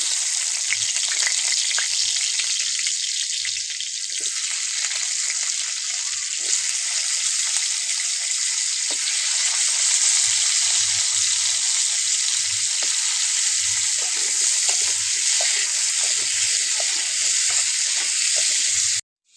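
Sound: potatoes frying in oil

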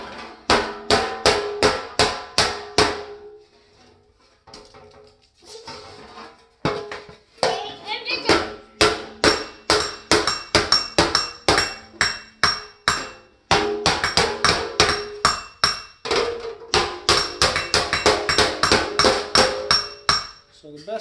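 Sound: hammering aluminum armor plate on an anvil

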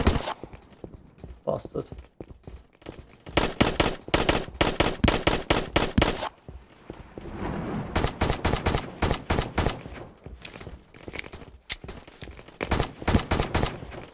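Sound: distant gunshots in the video game Battlefield 2042

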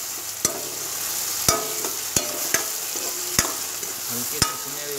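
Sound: stirring and frying chillies and garlic in pan

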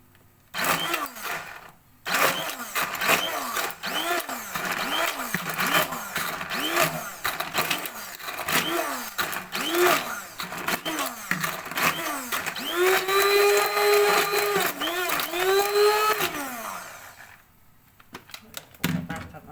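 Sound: pomegranate being blended in a food processor

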